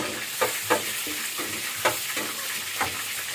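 Chinese kangkong adobo with onion sizzles steadily in a pan while a utensil stirs and scrapes it in a few sharp, irregular strokes over the constant frying hiss.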